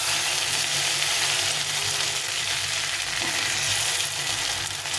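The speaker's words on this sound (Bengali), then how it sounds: "এইভাবে করে ডিমগুলোকে ভালো করে ভেজে নিতে হবে।" Catla fish roe coated in rice flour fries in hot oil, giving a loud, close, continuous crackling sizzle with faint stirring, steady throughout and without talking.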